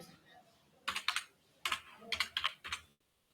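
Fingers type on a computer keyboard in a classroom setting, with a few quick clusters of keystrokes separated by short pauses, close and crisp with quiet talk faintly nearby.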